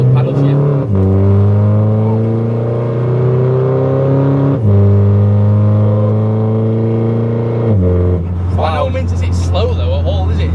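Volkswagen Caddy van with an R32 engine swap, paddle shift and a loud straight-pipe exhaust, revving hard. The deep engine note climbs and drops in a few strong surges, close and loud, with brief talk near the end.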